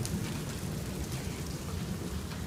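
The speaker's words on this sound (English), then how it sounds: "when you heard that thunder that second time" Thunder from a storm rolls as a steady low rumble under dense rainfall, continuous and fairly even throughout with no talking.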